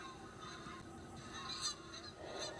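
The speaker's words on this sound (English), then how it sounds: "they're all landing, all the Canada geese are just landing on the other side." Canada geese honk in scattered calls at a distance as they land, overlapping faintly against a soft outdoor background.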